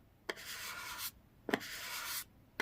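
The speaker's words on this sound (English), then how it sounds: "just burnish this design all the way from the middle to the edge" An old used gift card burnishes a photo transfer design onto wood, working from the middle toward the edge. Two steady, close scraping rubs, each lasting under a second, begin with a sharp tap.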